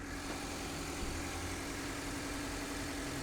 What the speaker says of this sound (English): The engine is still cold, so it runs slightly higher RPM than idle.